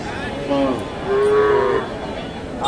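A cow moos twice, a short call then a longer drawn-out low, over a busy background murmur of the crowd at the Hasokhali cattle market in Bogura, Bangladesh.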